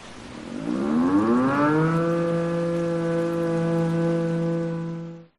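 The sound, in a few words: air raid siren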